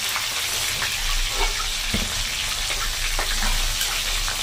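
Prawns frying in a pan, a close, loud, continuous sizzle and crackle of hot oil throughout, with small pops and brief stirring scrapes scattered across it.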